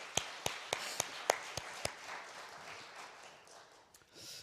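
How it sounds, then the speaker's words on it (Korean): A church congregation at a Friday late-night prayer service gives a round of applause: several sharp, distinct claps at first, then a softer, thinning patter that fades out at moderate volume. "우리 살아계신 하나님께 감사와 영광의 박수 올려드리시겠습니다"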